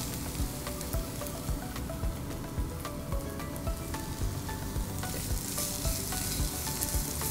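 Onion and paprika for japchae stir-fried together in a hot pan, a steady loud sizzle with scraping stirs throughout, no voices.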